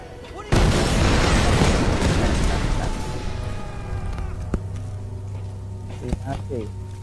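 A loud, booming bomb explosion in the Tomb Raider video game at a mountain base, a sudden blast followed by a long rumbling decay and scattered debris clatter, with players talking around it.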